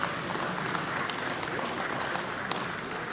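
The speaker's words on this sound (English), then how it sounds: "give these exhibitors a round of applause" A crowd at a dairy cattle show applauds exhibitors of young cows in an intermediate championship class, a continuous dense wash of clapping with scattered sharper claps, sustained throughout.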